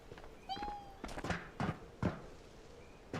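A cat meows inside the VR shooter game Ghosts of Tabor: a single faint, rising meow early on, followed by several soft thumping steps or knocks spaced through the rest of the clip.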